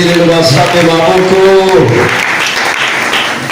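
A congregation at a Sunday worship service breaks into loud, sustained applause that swells across the room, with a voice carrying over the clapping at first before the clapping continues on its own.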